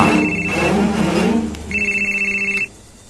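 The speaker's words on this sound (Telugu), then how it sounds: "హలో వినయ్, శివకు ఫోన్ ఇవ్వు." A telephone rings in repeated electronic trills, loud and close, with the ringing cutting off near the end.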